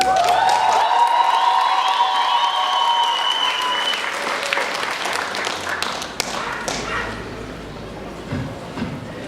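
Applause from a university talent-show audience after a performance: dense clapping that fades a little over several seconds, with a sustained tonal musical sound at the start.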